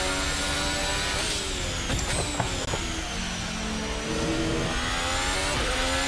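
Race car in Assetto Corsa lapping the Le Mans Bugatti Circuit, its engine droning loudly and steadily while pitch rises and falls through quick gear shifts.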